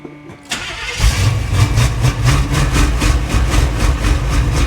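A 1977 Chevy Monte Carlo engine cranks briefly, then catches and runs rough and loud, with a steady pulsing rumble that sounds strained as it starves for fuel from a worn fuel pump.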